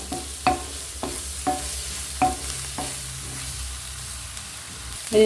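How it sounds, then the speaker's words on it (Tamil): A spatula stirs spice powders into a sizzling curry base for egg drop curry, making about six distinct scraping strokes in an uneven rhythm over a steady, close frying hiss. "நல்லா மிக்ஸ் பண்ணி இந்த பொடியெல்லாம் போட்டதனுடைய பச்சை வாசம் கொஞ்சம் போட்டுங்க"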